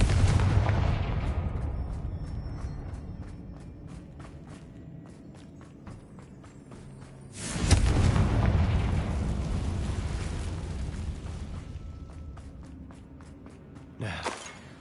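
A fiery Confringo spell in the wizarding game Hogwarts Legacy bursts three times as loud, booming explosions, each followed by a rumbling, crackling decay and scattered debris.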